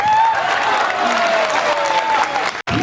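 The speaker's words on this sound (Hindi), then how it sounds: "तालियां तालियां तालियां।" Applause from a student audience at a college freshers' party, loud and dense clapping that holds steady before cutting off abruptly near the end.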